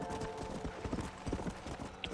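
Horse hooves clip-clop at a steady walking rhythm in the Red Dead video game, with soft ambient background noise and a brief hint of a snort.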